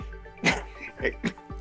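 A sudden sneeze bursts out, followed by a few more short sharp expulsions of breath, close and fairly loud, with voices speaking around them.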